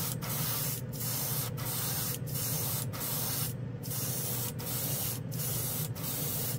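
A spray gun lays a close wet coat of chrome paint in a steady loud hiss, broken by short regular pauses between passes, with no voices.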